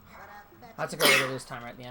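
A single loud, sharp sneeze bursts out mid-sentence, close to the microphone, while a person is talking over a video game.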